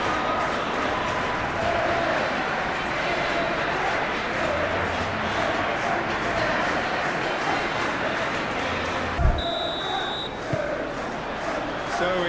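A capacity stadium crowd in the football video game eFootball/PES produces a steady, dense roar of chanting and cheering throughout, with a whistle near the end and commentators talking over it.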